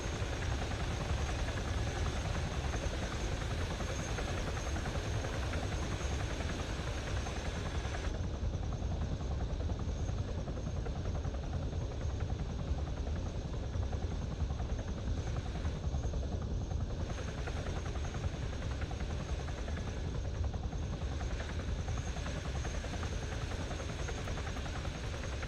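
A helicopter in the Open Warlords video game drones steadily with a constant rotor and engine hum, loud and unbroken throughout, with no talk.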